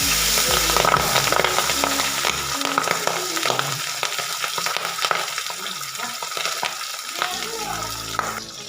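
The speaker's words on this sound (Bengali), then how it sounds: "এতে আমি দিয়ে দিচ্ছি সর্ষের তেল এখানে আমার তেলটা গরম হয়ে গেছে তেল থেকে ধোয়া উঠতে শুরু করে দিয়েছে এতে আমি দিয়ে দেবো একে একে মাছগুলো" Pabda fish frying in smoking-hot mustard oil, a dense close sizzle and crackle with intermittent clatter as pieces are laid in, low tonal hum underneath, no voices.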